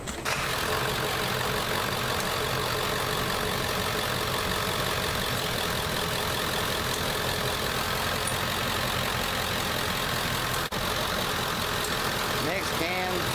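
A 1987–1999 Ford F-150 truck engine runs at a steady idle throughout, a constant loud low rumble with no breaks.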